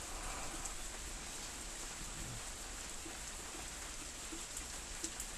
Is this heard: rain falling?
yes